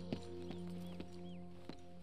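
Horse hooves in Red Dead Redemption 2 clop at a slow, uneven walk, a few distinct strikes over a steady low ambient hum, with faint distant bird calls in the background.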